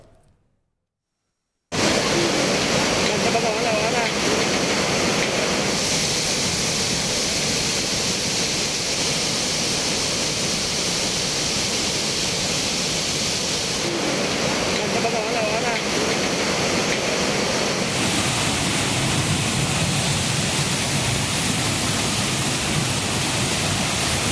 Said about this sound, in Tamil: குற்றாலத்தில் உள்ள அனைத்து அருவிகளிலும் தண்ணீர் வரத்து அதிகரித்து வெள்ளப்பெருக்கு ஏற்பட்டுள்ளது